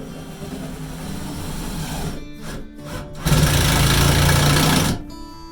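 Screws driven into a wooden chicken roost ladder to fix it to the floor: a brief powered whir, a short stop, then a louder, longer buzzing drive of about two seconds that ends abruptly.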